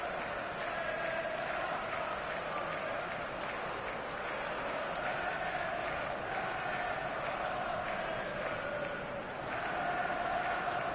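A stadium crowd in the eFootball video game applauds and murmurs in a continuous, moderately loud wash of clapping and cheering that swells slightly near the end.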